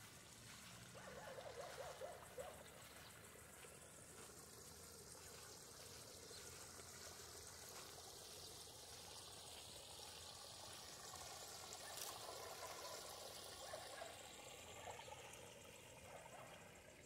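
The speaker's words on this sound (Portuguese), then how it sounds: "Deixa eu mostrar ali a nascente do riozinho, um riozinho aqui que é de onde vem toda essa água." A small stream trickles from its spring beside a lake in the botanical garden of Ivaiporã, Brazil, giving a faint, steady wash of running water with no talk.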